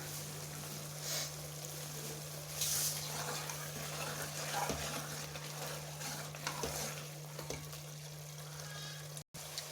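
Spinach and potatoes frying with green chili in a pan, a steady oily sizzle with occasional stirring scrapes and clinks, moderately loud and continuous over a constant low hum.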